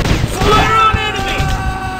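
Loud, continuous gunfire and explosive booms fill a commando shooting video game, with dense rapid shots and ringing tones over a busy mix of game effects.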